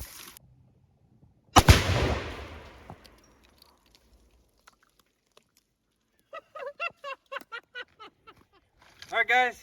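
One loud, booming gunshot at a shooting range cracks out and rings into a fading tail, followed by quiet and then a person speaking.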